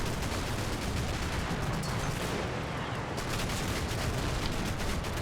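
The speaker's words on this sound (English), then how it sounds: "Okay, shots out, shots back." Dense, continuous exchange of rifle and machine-gun fire with distant blasts in the Normandy combat video game Combat Mission: Battle for Normandy, around Amiens on the Somme, a loud, unbroken wall of shots throughout.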